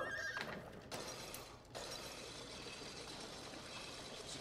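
A horse neighs in the co-op video game It Takes Two, a whinnying call near the start over a steady game soundscape with no talk.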